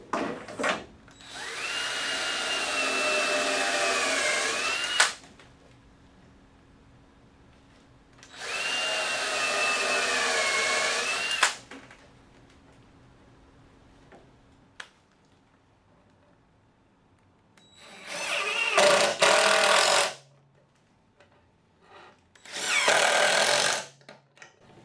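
A power drill whirs in several bursts while pre-drilling and driving screws into wood, two longer runs spinning up and down, then shorter quick pulses, with quiet gaps between and no talking.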